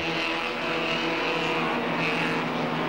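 Honda CRX race cars at Snetterton in 1989 drone steadily at close range, a dense, continuous engine roar with layered harmonics that holds level throughout without breaks.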